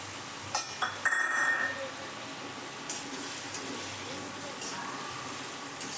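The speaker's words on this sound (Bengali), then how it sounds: "সেটাকে তরকারিটাকে ভালো করে কষিয়ে নেব" Raw papaya curry masala of turmeric, ginger and cumin paste sizzling steadily in a pan, a continuous close fry with a few early clinks and stirring scrapes, no voices.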